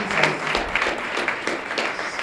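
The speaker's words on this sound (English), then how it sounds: "clap hands for Jesus" Church audience applauding together during a testimony of healing, a dense, steady wash of clapping with rhythmic swells, fairly close and sustained throughout.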